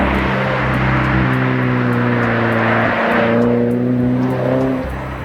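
A modified 2022 Subaru BRZ with a naturally aspirated four-cylinder and an aftermarket exhaust, heard from inside while driving: a loud, steady engine and exhaust note whose pitch climbs and shifts as the car accelerates, with no talking.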